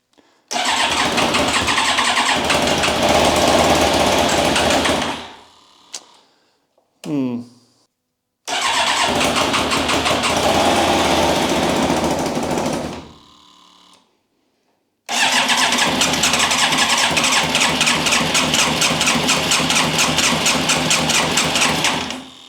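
A Yamaha YZF1000R Thunderace motorcycle engine cranks in three long bursts with short pauses between them, loud and close, and it struggles to catch while the bike may be getting no fuel.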